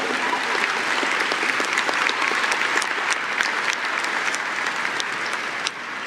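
Sustained audience applause at a graduation ceremony, a dense, even wash of many hands clapping from a large crowd that carries on steadily before tapering slightly at the end.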